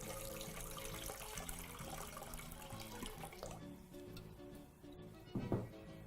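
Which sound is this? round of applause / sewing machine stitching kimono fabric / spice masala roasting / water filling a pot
water filling a pot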